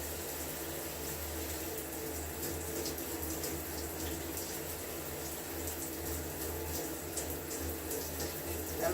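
Shower water runs steadily in a home bathroom, a soft, continuous hiss and patter that stays even and fairly faint throughout, with no one speaking.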